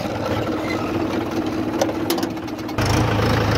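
A Mahindra 575 tractor engine chugs steadily at close range, its low rumble growing louder and heavier near the end.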